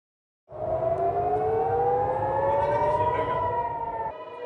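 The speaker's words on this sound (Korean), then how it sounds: "사이렌이 울리고 미사일이 날아오자 빛이 번쩍합니다" An air raid siren starts suddenly and wails loudly during a Hamas rocket attack on Israel, its tone slowly climbing and holding steady, with no voices.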